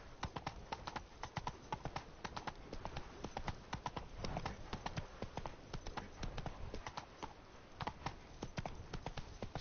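Hooves of Roach, Geralt's horse in The Witcher 3: Blood and Wine, clopping in a steady, brisk rhythm of close, crisp hoofbeats throughout, with faint ambient game sound beneath.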